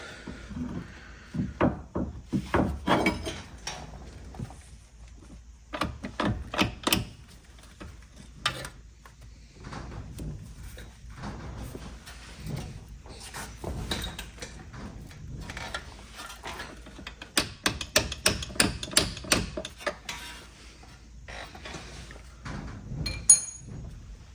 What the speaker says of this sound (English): I'm just pushing the anti-roll bar down so I can pull the drop link out.